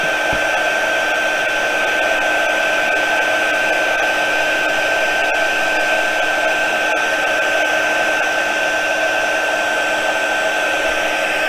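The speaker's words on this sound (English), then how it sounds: "I'm bringing my heat tool here, and sorry for the noise" A steady, loud whooshing hum from a heat embossing tool blowing continuously, with a constant high whine and no pauses.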